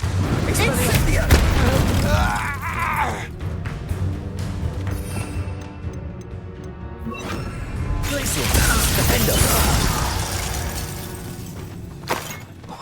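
Spell combat in the Hogwarts Legacy video game, with an Expelliarmus cast amid loud crashing, shattering blasts and booming impacts, layered under game voice chatter and dense battle noise throughout.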